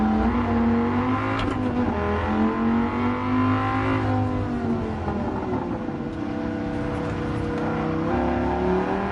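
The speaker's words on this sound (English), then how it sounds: "that Viper gurgles, pops" A Viper's engine in the Gran Turismo 7 racing game, a loud, sustained droning growl with shifting pitch as it revs, gurgling with occasional pops and other cars' engines mixed in, no talk.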